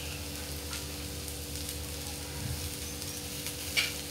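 Ivy gourd (tondli) with salt and chopped coriander is stir-fried in a pan, a steady soft sizzle with occasional light stirring scrapes and one sharper clink near the end, close and unaccompanied by speech.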